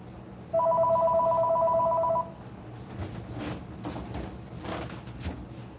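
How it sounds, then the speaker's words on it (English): A telephone rings with a steady two-tone electronic trill for about two seconds, then stops, leaving low room noise with faint clatter. "Where's the phone? I heard it."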